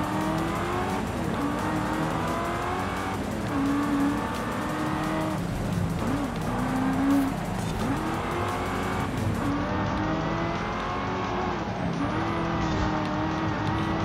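A car driving in the Forza Horizon 5 open-world racing game, with a steady engine drone that rises and falls through gear changes and revs, plus occasional tire squeal, continuous and close with no talk.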